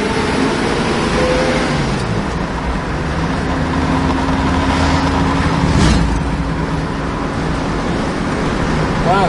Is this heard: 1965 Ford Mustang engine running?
yes